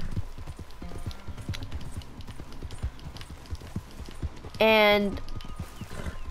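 Horse hooves clip-clop at a steady walking rhythm on a trail in Red Dead Redemption 2, close and fairly loud, with someone briefly talking over them and a short whinny-like tone near the end.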